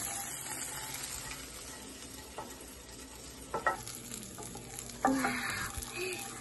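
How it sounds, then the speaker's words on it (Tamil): Kashmiri red chili, bay leaf and green chili sautéing in a pan, a steady sizzle broken by several sharp scraping stirs and clinks toward the end. "இப்போ இந்த காஷ்மீரி ரெட் சில்லிய போட்டு நல்லா வதக்கணும்"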